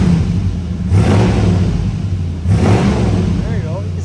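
A 1969 Ford XL GT Sportsroof's 429 V8 with C6 automatic blips twice, each rev swelling sharply from a steady rumbling idle and settling back, close and loud.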